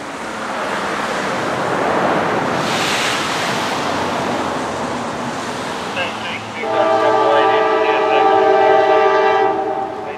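A CSX Q237 freight train led by an AC6000CW locomotive passes with a steady rumble and rolling rush. Partway through, the locomotive sounds several loud, sustained horn blasts.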